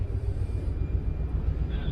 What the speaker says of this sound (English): The helicopters will be out for another 20 minutes gathering imagery. You can see one of them getting very close to the crew module.